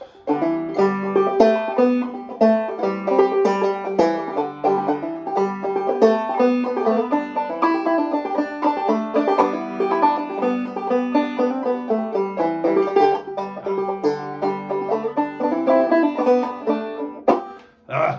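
Loch Lomond picked on a clawhammer banjo, a bright, plucked melody over a steady bum-ditty strum, played close and continuously from start to finish, with no voice.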